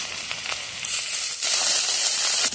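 Onions frying with ginger-garlic paste in a pan for a Bengali prawn curry, a steady close sizzle that swells louder and brighter about a second in and holds there.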